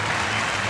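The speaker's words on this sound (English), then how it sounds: "listen to the crowd and the reaction for Villanueva" A baseball crowd applauds steadily as a departing pitcher leaves the game, a dense wash of clapping close and loud throughout the brief moment with no talk.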